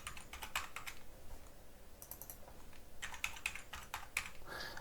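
Password being typed on a computer keyboard: two quick bursts of light, close key clicks separated by a short pause, with no voices.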